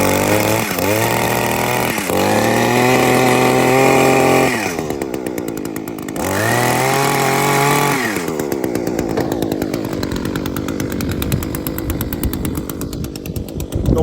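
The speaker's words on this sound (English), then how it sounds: "All right, turned over. Now I go half choke." A gas hedge trimmer engine, still cold, runs at half choke, a loud close two-stroke buzz that revs up and drops several times, cuts out briefly, then settles into a rough, sputtering idle.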